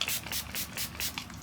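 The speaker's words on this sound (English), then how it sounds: "This is my Tower 28 SOS spray." Tower 28 SOS facial spray hisses in about four quick, even spritzes, each a short airy burst close to the ear.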